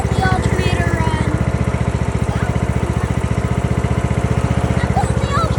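A tractor engine idles steadily with its alternator running, a loud, even mechanical throb pulsing rapidly and close by without a break.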